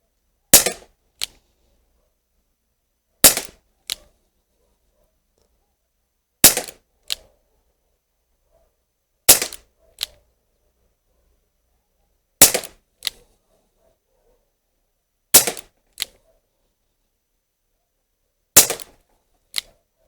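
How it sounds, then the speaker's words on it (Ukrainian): Sharp, snappy shots from an Umarex UX Tornado CO2 air revolver ring out in evenly spaced pairs, each crack followed by a quieter click, with silence between them. "Буду відстрілювати по 10 пострілів в кожну мішень."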